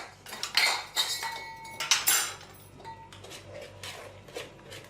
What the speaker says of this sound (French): On verse dans la pâte le bicarbonate de soude dilué et on mélange.